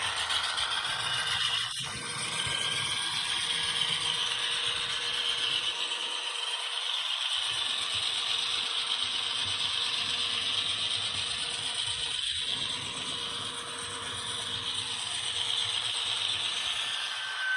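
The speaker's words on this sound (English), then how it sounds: "I pressed the 4, which is your dynamic brake, and it slows it, but it will not completely stop it" A ScaleTrains Norfolk Southern C40-9 model locomotive runs with its dynamic brake engaged, a steady mechanical whirring and rattling hum with faint ratcheting clicks, continuous and fairly close.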